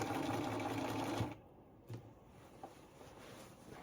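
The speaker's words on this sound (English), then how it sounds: "now I'm going to baste stitch it" Sewing machine baste stitching a ruffle onto a large Victorian-style girl's skirt, a close steady mechanical whir that stops abruptly partway through, leaving quiet handling noises.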